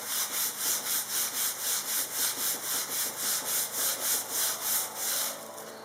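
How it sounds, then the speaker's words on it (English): Rhythmic back-and-forth rubbing on wooden cove molding, burnished by hand, about a dozen even strokes, close and clear, then slowing to a stop. "What I'm doing here is burnishing it, a bit like sanding."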